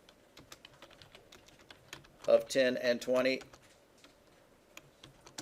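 Typing on a computer keyboard gives light, rapid clicks throughout, close and fairly quiet, while someone speaks briefly in the middle.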